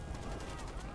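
Rapid gunfire from the video game Far Cry 4 fills the whole second, a dense, steady burst of shots with no pause.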